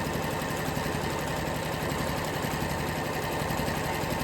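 A sewing machine fitted with a walking foot quilts gentle wavy lines, giving a steady, close mechanical whir that runs unbroken throughout with no one talking.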